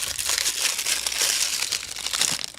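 Plastic snack wrapper from a Mexican treat being opened, crinkling and crackling continuously and close up, with bursts of crisp rustling throughout and no talk.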